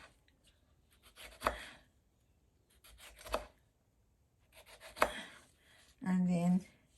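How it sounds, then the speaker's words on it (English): A knife slicing a tomato thinly on a cutting board for tabouleh, giving three distinct chopping knocks spaced about two seconds apart, close and fairly quiet, with a brief hum or scrape near the end. "Now, the tomato, we cut it up thinly"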